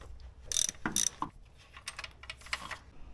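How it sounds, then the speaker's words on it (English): A 3/8 ratchet loosens the 17 mm drain bolt on a car's transmission, giving a few quick bursts of sharp clicking, then scattered lighter metallic ticks and taps, close by and with no talk. "Just need to put a 3/8 ratchet right there and just loosen it up."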